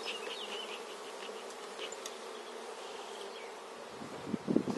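Honeybees buzz around a hive in a steady, dense drone, close and continuous, with a few louder handling knocks near the end.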